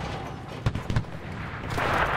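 Gunfire and explosions in the World War II shooter Enlisted: two sharp, fairly close shots or blasts in quick succession, then a rising, rumbling wash of distant battle noise. No one speaks.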